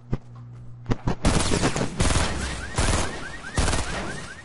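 Video game gunfire in a duo battle match, opening with a few separate sharp shots and then breaking into sustained rapid automatic bursts, loud and close, with no voices.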